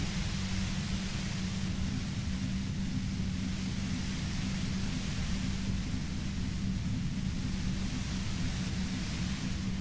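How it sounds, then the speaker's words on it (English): White-noise static from the video game Disco Elysium: a dense, unbroken hiss with a low hum underneath, loud and even throughout, with no voices. "You hear through the white noise. It's especially bad suddenly."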